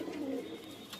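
Punjabi Malwai breeder pigeons giving a brief, soft, low coo close by against a faint background hum.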